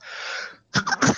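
A drawn breath, a brief pause, then a quick doubled sneeze with a short trailing burst, close and fairly loud, in a quiet room during a Dungeons & Dragons tabletop session.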